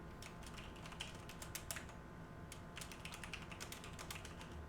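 Rapid, faint clicking of keys as someone types on a computer keyboard, with uneven bursts of keystrokes over a steady low room hum and no voices.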